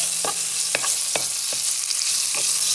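Pigeon peas heating in a pan for Puerto Rican rice, a low steady sizzle broken by about eight sharp spoon scrapes and taps against the pan at an uneven rhythm, with no voices.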